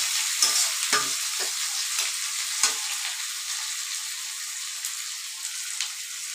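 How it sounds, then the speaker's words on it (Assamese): Onions frying in a pan, a constant bright sizzle with several soft stirring knocks early on, close and moderately quiet. "পিঁয়াজখিনি একদম ৰঙা হোৱালৈকে ফ্ৰাই কৰিব লাগিব।"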